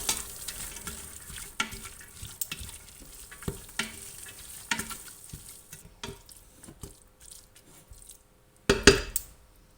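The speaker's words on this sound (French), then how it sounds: "On la fait revenir légèrement avec les oignons." Carrot sautéing lightly with onions in a pan for chorba, a soft sizzle under frequent stirring taps and scrapes that grows sparser, then a brief louder clatter near the end.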